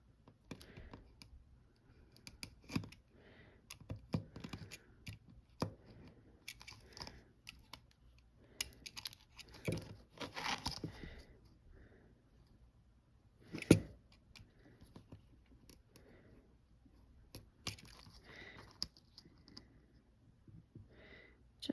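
Scissors snip little by little through vintage ephemera paper, cutting out the centers; irregular close, soft crisp clicks and rustles come in scattered bursts with pauses, with no talking.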